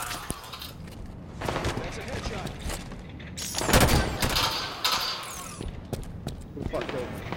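Gunfire from Halo 5 SWAT multiplayer comes in rapid bursts and sharp single shots with booming thuds, loudest in the middle stretch, while players talk excitedly over it.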